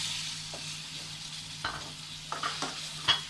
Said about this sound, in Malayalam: ഈ തക്കാളി നല്ലപോലെ വെന്ത് നമുക്കൊന്ന് ഉടച്ചെടുക്കണം. ആ ഒരു പരുവം വരെ നമുക്കൊന്ന് വഴറ്റിയെടുക്കാം അങ്ങോട്ട്.